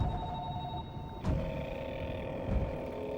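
A telephone rings with a steady electronic tone inside the deep-ocean survival horror video game Narcosis, held at a moderate level over a low rumbling ambient drone, with a brief thump partway through.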